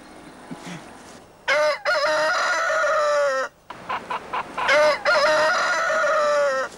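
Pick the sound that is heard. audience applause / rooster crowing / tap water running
rooster crowing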